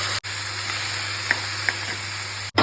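Vegetable pieces hit a hot tempering of spices in a pan for an Andhra mixed-vegetable pulusu and set off a steady, close sizzle. The hiss is broken by a couple of light clinks and two brief gaps.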